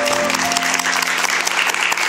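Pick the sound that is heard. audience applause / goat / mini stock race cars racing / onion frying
audience applause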